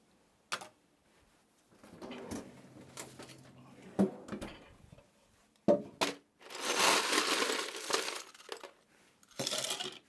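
Ice cubes drop into a cocktail glass for a whiskey sour with scattered sharp clinks and clatters, followed by longer bursts of rattling ice, close and fairly loud.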